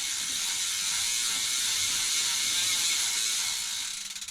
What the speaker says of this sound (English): Pedal backwards both sides.